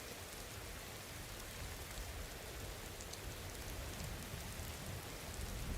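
Steady rainfall in the Skyrim video game, a dense, even hiss of drops on surfaces that continues unbroken and fairly faint, with no voices.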